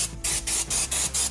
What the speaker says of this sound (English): Let me start spraying this down